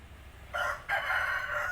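A rooster crows close by in a single loud call, broken by a short pause, set against faint background noise.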